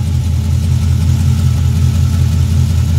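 A car engine with a stainless steel exhaust idles steadily and loudly up close, a low, even rumble with a slight pulsing and no talk over it.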